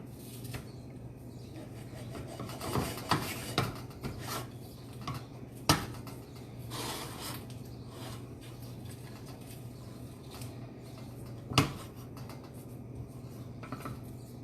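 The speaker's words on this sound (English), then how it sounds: "I'm just going to keep kind of scraping the bottom of the pan and just folding it into the mixture" Cold porcelain mixture is scraped and folded in a pan, producing soft, repeated scraping and rubbing with occasional sharper utensil knocks against the pan at a moderate, close level.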